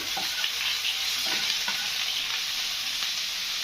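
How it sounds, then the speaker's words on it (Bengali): Chopped onions, about 300 grams, fry and get stirred in a frying pan while preparing Bengali mutton kosha: a dense, continuous close sizzle with faint scraping strokes of the spatula and no talking. "আমি এখন এটাতে কষাচ্ছি ফ্রাই প্যানটাতে"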